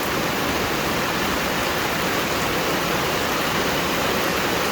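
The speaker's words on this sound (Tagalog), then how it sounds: "Ganito na yung baha dito sa amin." Heavy floodwater rushing past at five in the morning, a loud, continuous broadband roar of churning water that stays steady without pause and with no voices heard.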